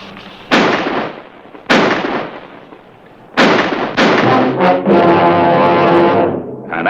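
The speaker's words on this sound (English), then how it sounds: "Wait till I get off the first shot." Gunshots in a western movie set in Tombstone territory: several loud, sharp reports a second or more apart, each ringing out with a long echoing tail, the last followed by a sustained rumble.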